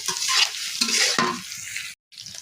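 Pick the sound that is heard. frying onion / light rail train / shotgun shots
frying onion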